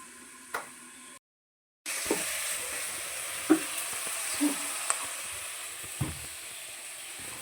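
Food frying in a pan on a village kitchen stove, a steady low sizzle with a few sharp clicks of a spoon stirring and scraping, briefly cut out, then continuing alone at a moderate level.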